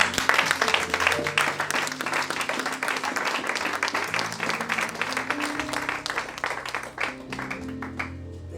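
Church congregation applauding during a service on baptism, sustained dense clapping from a crowd indoors, loud at first and gradually thinning, with rhythmic music tones underneath.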